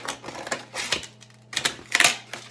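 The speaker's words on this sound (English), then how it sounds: "You can cut the lid off." Scissors snip through the cardboard of an egg carton to remove its lid: a few sharp, close cuts in quick bursts over a low steady hum, with no talking.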